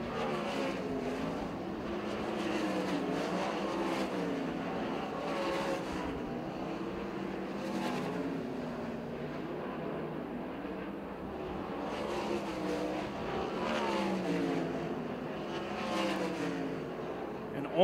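410 sprint cars race on the dirt at Port Royal Speedway in a heat race, engines droning and rising and falling as the field circles, heard from a distance as a continuous roar.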